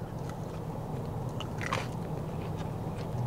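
Close, quiet bites and crunching chews on a piece of fried chicken with crunchy skin at a Waianae, Hawaii restaurant, soft crisp crackles over a low room hum, no talk.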